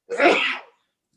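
A single sharp sneeze, close and fairly loud, bursting out and ending quickly into silence.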